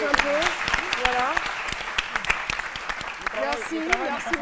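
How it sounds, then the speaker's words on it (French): A TV studio audience claps on a French-language midday talk show while voices call out over the clapping, which is brisk and even throughout. "On peut m'applaudir pendant que je me pose un peu."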